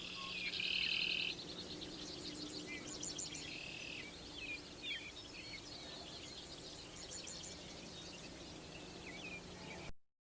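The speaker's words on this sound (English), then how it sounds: "You can hear a lot more bird calls. You can hear a lot more buzzing," Birds chirping and calling over a faint steady insect buzz in a field with prairie strips, quiet and distant with scattered tweets throughout.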